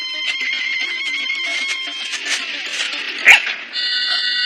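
A dog barks repeatedly in an animated forest scene, with moderately loud, steady bursts and a sharper yelp near the end.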